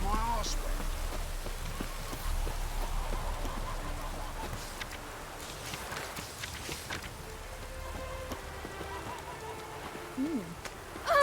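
Steady video game rain patters on a surface throughout, with scattered louder drops and a person talking over it, in The Witcher 3: Wild Hunt.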